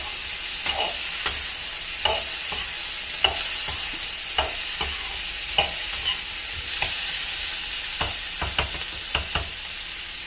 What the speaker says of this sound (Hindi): अब इसको थोड़ा फ्राई किया।